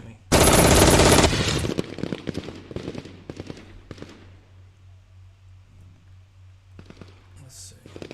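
Burst of rapid gunfire aimed at the player in a video game, a loud dense volley of about a second, followed by scattered shots and impacts fading under a low hum, with talk in the background.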